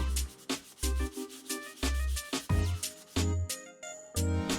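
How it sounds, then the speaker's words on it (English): Rhythmic rubbing strokes of sandpaper, coarse then finer grits, on a wooden mallet handle, about a dozen quick back-and-forth passes in an uneven rhythm, close and fairly loud. "Then a little sanding, starting coarse and moving finer."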